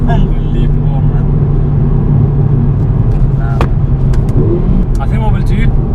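A Mercedes A45 AMG hot hatch accelerates hard, its engine a loud, continuous roar with a deep rumble that stays strong throughout the run.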